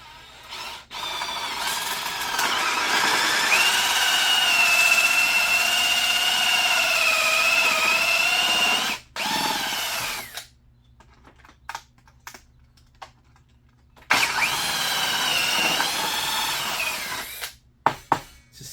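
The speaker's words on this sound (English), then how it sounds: "let's commence the drilling. Just going to drill off to the side of the nail." A power drill fitted with a 7/8 hole saw bores into wood beside a nail, whining loudly and steadily in two long bursts separated by quiet pauses, with a few clicks and handling knocks, close and without talking.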